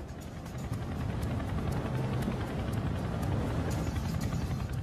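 A Chinook helicopter flying at low level across the Antrim Hills, a dense continuous low rotor thrum with a rapid pulsing beat, steady and fairly close throughout, no talk.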